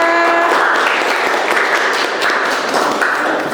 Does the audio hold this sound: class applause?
yes